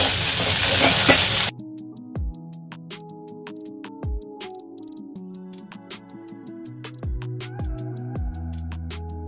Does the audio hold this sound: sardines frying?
yes